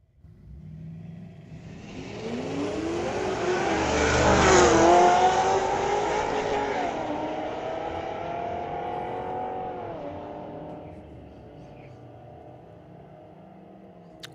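A Corvette and a Ford Falcon run a street-legal drag race down the strip at Mission Raceway Park, engines building from a rumble to a loud revving howl as they accelerate and pass, then fading into the distance.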